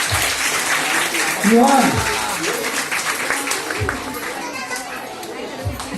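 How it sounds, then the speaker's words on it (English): Audience applause at a school prize distribution at a little pre-primary school in Ghansoli, Navi Mumbai, a steady crowd clapping mixed with children's chatter, while an announcer speaks over it. "Clap for Johan, everyone."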